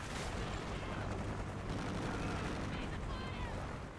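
Amtar rifle fire in the shooter game Ghosts, a dense continuous barrage of gunshots and battle noise, loud and unbroken throughout.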